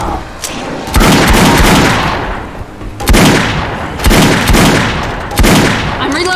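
Gunfire in the zombie shooter game Left 4 Dead 2, heavy booming shots in clusters, each followed by a long echoing tail, loud and close with little speech over it.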